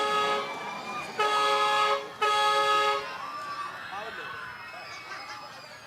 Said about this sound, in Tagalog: Bumubusina pa, ayan na.